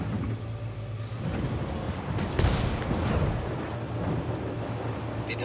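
Gunfire in the video game Ghost Recon Wildlands, a burst of loud blasts mid-clip over a low rumbling game soundscape with a steady drone.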